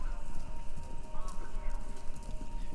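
Galloping hooves of racehorses come through a radio broadcast in the video game Kentucky Route Zero, a steady drumming clip-clop over a low hiss with a faint whinny.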